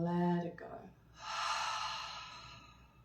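A big, releasing exhale through the nose during a yoga breathing practice: a short voiced sound, then a long, soft nasal breath out that fades slowly, close and clear.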